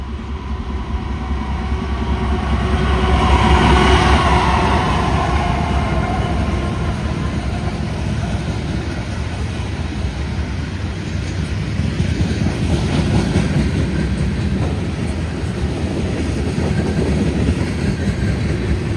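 A loaded freight train rolls steadily past nearby, a loud continuous rumble with rail clatter and wheel noise that swells early and holds for the whole stretch.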